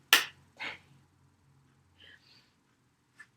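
A single sharp hand clap in a Shim Sham tap dance class, followed by a softer second clap, then faint brief sounds and another light clap near the end in an otherwise quiet room.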